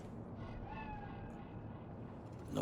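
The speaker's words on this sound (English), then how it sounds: "What are you doing over there, kitty?" A cat meows faintly inside the Cyberpunk 2077 video game, a thin drawn-out cry set against a dense low city rumble and ambient game noise, with no speech over it.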